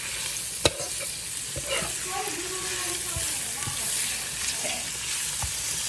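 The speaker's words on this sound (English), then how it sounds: "When you're sauteing, you don't want it too hot." Ingredients sautéing in a pan for pancit bihon and canton, a steady sizzle with spoon scrapes and occasional knocks, close up, while a voice speaks briefly.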